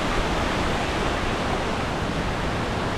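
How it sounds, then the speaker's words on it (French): Small mountain torrent rushes nearby in a steady, dense, broadband wash of water noise that stays even throughout with no voices. "Il y a un peu de bruit parce qu'il y a un petit torrent."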